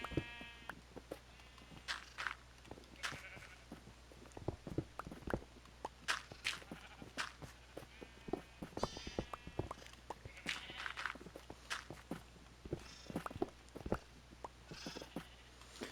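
Sheep on a farm bleating in scattered bursts amid footsteps and rustling, the calls at moderate distance and rather faint.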